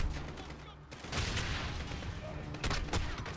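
Dense, continuous gunfire from the video game Modern Warfare rattles close and loud, with overlapping shots and booming hits filling the whole moment.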